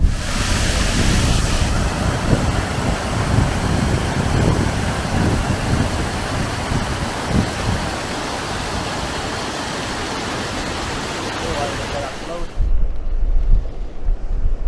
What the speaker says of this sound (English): So that rain is still coming down quite heavy. We're just at the series of waterfalls now